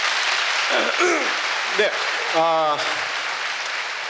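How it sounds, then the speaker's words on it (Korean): Audience applause at a Korea University concert, a steady wash of clapping throughout, with someone speaking briefly over it. "다시 한번 뜨거운 박수 부탁드립니다"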